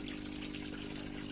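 A small aquarium water pump draws water out of a koi fish tank, giving a faint, even hum with a soft gushing flow throughout, no speech.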